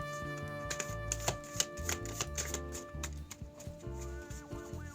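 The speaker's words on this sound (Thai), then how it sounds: "อันนี้ต้องทำการสับไพ่ก่อนนะคะ" Tarot cards are shuffled with a run of quick, crisp riffling clicks and soft slaps, close by and fairly quiet over gentle background music.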